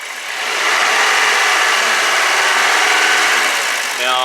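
A Toyota Corolla engine with a P0016 timing fault is revved up from idle into a loud, steady, raspy roar held for several seconds, then begins to ease off; no talking.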